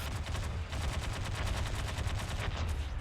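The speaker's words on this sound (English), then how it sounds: "this system cannon was made by Dev who no longer is working with us" A system cannon firing in the space game Freelancer, a rapid continuous stream of evenly spaced shots over a dense, rumbling low end.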